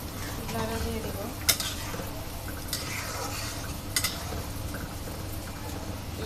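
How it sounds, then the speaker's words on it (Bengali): Tangra fish curry stirred in a pot, a steady soft simmering hiss with a few sharp clinks of a utensil against the pot rim, close and moderately quiet. "নাড়া দিয়ে দিব।"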